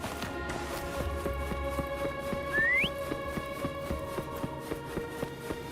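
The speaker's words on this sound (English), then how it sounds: "Why don't you call Foam over? Try whistling" A character in the video game Wuthering Waves gives one short rising whistle to call a mount, heard over steady game music with a regular plodding beat.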